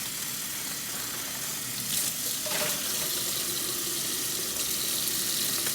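Running water from a tap pours steadily over pumpkin seeds in a strainer, a continuous close hiss and splash, with no talking.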